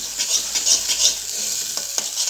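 Turmeric paste roasting in a pan on medium-low heat while being stirred, a steady soft sizzle with faint scraping strokes, no talking.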